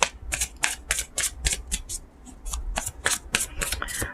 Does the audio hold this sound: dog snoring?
no